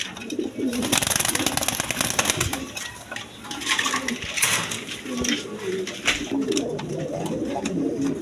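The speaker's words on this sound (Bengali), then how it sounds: "দর্শকবৃন্দ এইখানে এক পেয়ার কবুতর আছে" A pair of pigeons coos at a bird seller's, low throaty calls repeating close by amid background chatter and bustle, with someone speaking at times.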